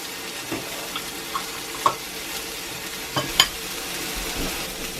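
Steaks sear in a cast iron pan with a low, even sizzle, broken by scattered scrapes and clicks of handling, heard close with no talking.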